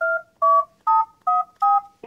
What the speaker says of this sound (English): if I dial asterisk or the star and then 97 on the keypad of the telephone